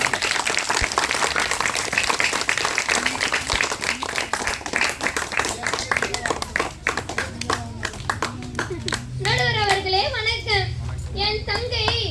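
Audience clapping at a school function held for Kamarajar's birthday, welcoming a speaker on education; steady applause runs under loud amplified speech and music for about twelve seconds.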